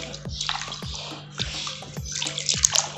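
Water splashes and drips intermittently in a pedicure basin as feet are washed, with repeated bursts of sloshing over a faint steady hum.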